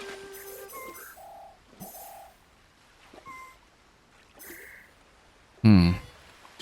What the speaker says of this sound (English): I'm trying to listen carefully to the bird's response to see if it tells me anything.